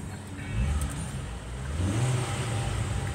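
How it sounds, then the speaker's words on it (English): A 2008 Ford Focus ST with the 2.5 engine is revved, its steady low engine drone swelling into a louder rise partway through, heard close with no talking. "Let me rev it to, so you can hear it a little bit."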